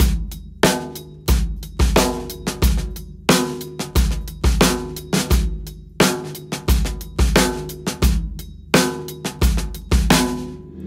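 A drum kit plays the verse groove of Holy Is The Lord, a steady, tight pattern of punchy kick and snare hits with ringing cymbals, repeating evenly for several bars, loud and close with no voices.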